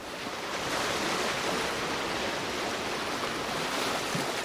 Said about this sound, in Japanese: 残るのはただ波の音だけ。